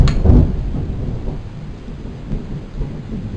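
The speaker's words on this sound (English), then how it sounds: "You can hear the thunder in the background." Distant thunder from an approaching thunderstorm, a low rumbling roll that swells early then settles into a faint, continuous grumble with light rain-like hiss beneath it.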